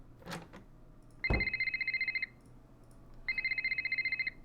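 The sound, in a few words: telephone ringing in Nancy Drew: The Silent Spy video game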